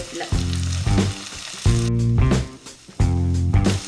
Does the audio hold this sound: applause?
no